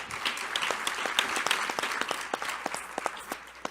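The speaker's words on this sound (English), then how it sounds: "Let's give the senator a great round of applause." An audience at a healthcare roundtable applauds for a senator with a dense stretch of steady clapping, moderately close, the individual claps standing out against the general patter.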